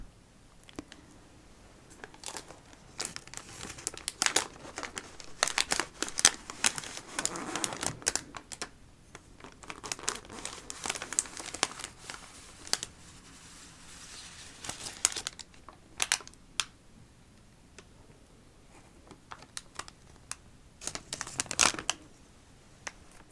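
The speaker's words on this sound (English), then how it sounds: "let's go ahead and get this outer plastic off" Outer plastic wrap being torn and crinkled off a Pokémon Friends Pokéball toy box, close up, with steady crackling and sharp ripping bursts over about twenty seconds and no talk.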